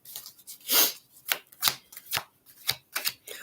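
Tarot cards riffled and shuffled in a series of quick papery bursts, close up and fairly quiet, with short pauses between each shuffle.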